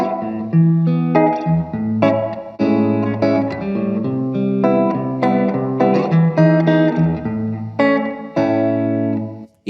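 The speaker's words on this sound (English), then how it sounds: "Now let's spend a little bit more time in depth with each of the 3 modes on the Cumulus 3-way reverb." Guitar played through a Cumulus 3-way reverb pedal set to studio mode at full amount: a series of sustained strummed chords and notes with long, smooth tails that ring and blend into each other, loud and up front.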